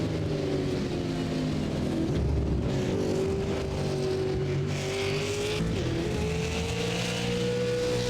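Super late model race cars lap Watkins Glen in iRacing, a sustained engine drone with rising and falling pitch as cars accelerate and shift, steady and moderately loud with no talk.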